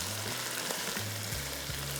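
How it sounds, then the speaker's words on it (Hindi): Potatoes frying for zeera aloo give a continuous dense sizzle, with a low hum shifting pitch in the background throughout. "भाई, इसको थोड़ा सा और फ्राई करेंगे।"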